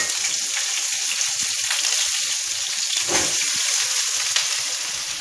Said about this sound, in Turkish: Şimdi tavaya bunları atıp biraz